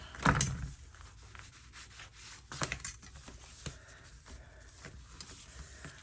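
Paper folded for a junk journal, with a sharp crinkle at the start followed by soft rubbing and creasing sounds, close and quiet.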